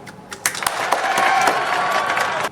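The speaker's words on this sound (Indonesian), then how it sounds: "tepuk tangan dulu teman-teman" Classmates applaud after a student group introduces itself at a presentation, a few scattered claps building into a steady wash of applause without speech.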